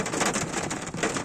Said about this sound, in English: The heavens have just opened and the drops are absolutely massive.